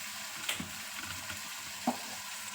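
Onions frying in a pan for egg pulao, heard as a quiet, even sizzle with a couple of brief stirring knocks.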